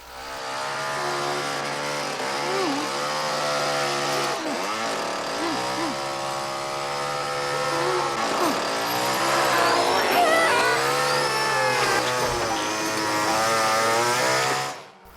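A chainsaw from the chainsaw scene in Scarface (1983) roars loudly and continuously, its engine whine rising and falling in pitch throughout.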